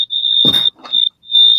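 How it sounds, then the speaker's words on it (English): A home smoke alarm shrieks with a loud, piercing steady tone, sounding in long bursts separated by short gaps, while a voice briefly talks over it in the middle. "Wow, what is that? That's a smoke alarm."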